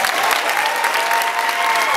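Audience clapping and cheering at a high school commencement ceremony, a dense, steady wash of applause filling the hall for about two seconds, no speech over it.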